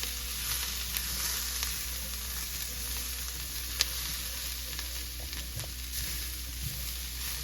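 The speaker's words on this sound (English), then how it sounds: "We're just going to make somewhat of a quick roux" Flour and oil sizzle in a pan for a quick roux, a steady, soft, even hiss with no talking, made for a slow cooker vegetable beef dish.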